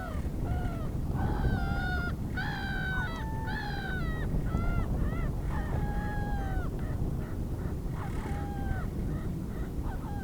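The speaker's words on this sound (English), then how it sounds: "2 gulls are declaring their love for each other." Two gulls call back and forth in a run of repeated harsh, honking cries, close and loud over steady wind and water noise, with no talk.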